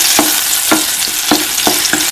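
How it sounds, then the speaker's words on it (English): Sausage frying in an oiled pan, a bright, steady sizzle close up with about six regular scraping stirs spaced roughly half a second apart, no talking. "So first I have added my sausage in the pan."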